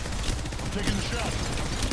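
Sustained gunfire in the mobile battle royale shooter Apex Legends Mobile, rapid overlapping shots forming a dense continuous burst at steady loudness, with a voice briefly audible under it.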